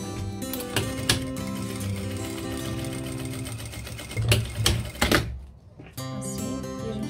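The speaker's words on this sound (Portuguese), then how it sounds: "a gente passa uma costura aqui em cima" A sewing machine stitches a seam along the top of a fabric clutch purse, running in a fast steady whir with a few brief pauses and restarts, close and alone.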